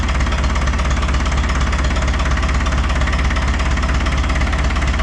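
An International TD6 crawler engine runs steadily on gasoline, a loud continuous idle with a low rhythmic knocking throb, close up and alone with no talk.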